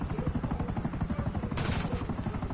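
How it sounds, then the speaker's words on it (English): Rapid automatic gunfire in GTA 5 street play, a fast, even rattle of close shots throughout with a brighter burst partway through. "Man, somebody's shooting at us,"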